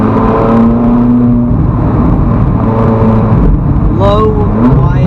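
Low, wide cars drive past and rev, their engine whine rising and falling in tone with a sharp climbing rev near the end, loud and close, while people talk over them.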